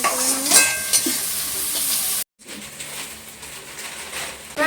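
Chopped onion and capsicum being stir-fried for pasta: a bright, loud sizzle with spatula scrapes, cut off by a brief moment of silence before the frying hiss resumes, steady and close.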